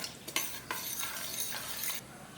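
A spoon stirs chutney mixed with fried onions and coriander leaves, giving a few soft scraping strokes against the bowl with a faint background hiss.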